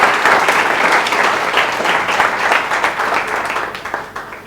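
A lecture audience breaks into steady, dense applause that fills the room evenly, holding at a strong level for several seconds before tapering slightly at the end.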